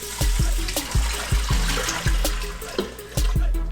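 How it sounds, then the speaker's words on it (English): Water poured into a pot holding two packs of soup mix, a steady splashing trickle with irregular thumps of the stream shifting, close and fairly loud throughout. "so I am going to add 1000 ml of water."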